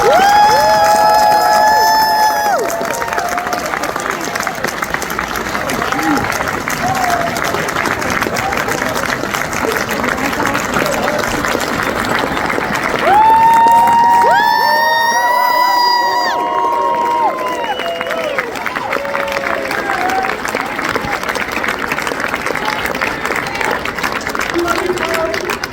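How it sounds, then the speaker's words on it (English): A large audience at a fire academy graduation applauds and cheers for nearly half a minute, dense clapping with whoops and shouts, while a voice on a loudspeaker talks over it in places. "Everybody give a round of applause."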